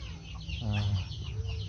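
A farm chicken lets out a brief run of soft clucks amid quiet rural background noise, fairly faint and close, with ducks and chickens kept nearby.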